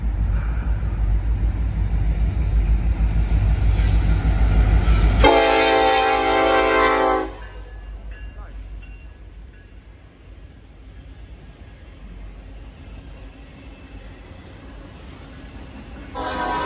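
A loud, close train horn blasts for a couple of seconds over the heavy rumble of a passing auto train at Roseville, which then fades to a quieter roll.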